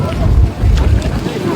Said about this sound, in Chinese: 好大风！